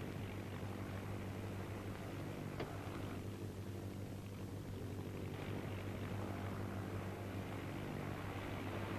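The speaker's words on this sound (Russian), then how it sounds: "Самолет гудит, слышите?" A steady, low drone of a military airplane engine continues throughout, broad and unchanging, with no voices.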